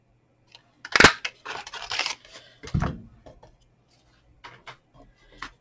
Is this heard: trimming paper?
yes